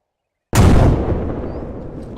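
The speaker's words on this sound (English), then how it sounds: "Control explosion in 5, 4, 3, 2," A controlled explosion during SAS training bursts out suddenly after silence, a loud, close, deep blast that rolls off into a long rumbling decay.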